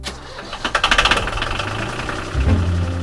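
A boat engine runs steadily with a low rumble, a burst of rapid knocking pulses early on, and a splashy gush of cooling water from the exhaust building toward the end.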